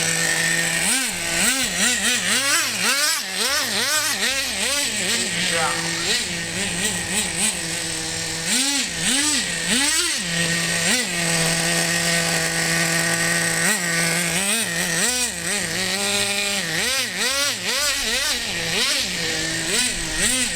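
A Team Associated RC10GT2 nitro RC car with a .15 engine, revving loud and close in repeated rising and falling bursts, whining high between throttle blips, with brief talk.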